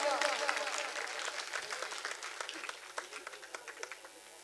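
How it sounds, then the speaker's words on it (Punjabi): Audience applause at a live Punjabi comedy stage show: a dense burst of clapping that thins over a few seconds into scattered, sharper individual claps. "ਤਾਲੀਆਂ ਪੀਰ ਭਾਈ, ਤਾਲੀਆਂ।"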